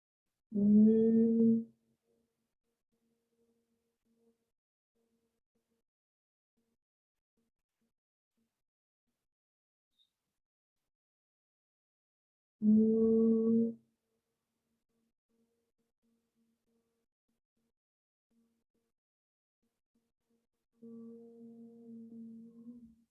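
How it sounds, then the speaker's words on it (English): Humming breath during chair yoga: three low, steady hums, the first two clear and about a second long, spaced far apart by long silences, the last one softer. "The humming breath is a beautiful breath to do before you sleep at night."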